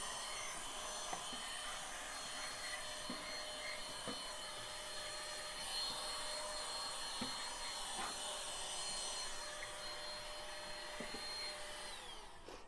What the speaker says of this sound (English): you basically want to do is just clean the excess material with a vacuum